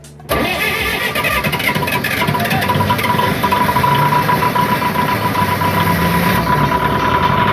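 A sailboat's engine cranks and catches, then settles into a loud, steady running rumble close by that continues without a break.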